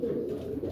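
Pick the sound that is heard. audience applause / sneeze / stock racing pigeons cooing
stock racing pigeons cooing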